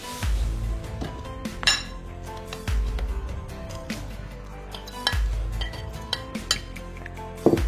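Mashed banana being transferred into a bowl: scattered clinks and knocks of dishes and utensils, with a few heavier thuds, close by and with no voices.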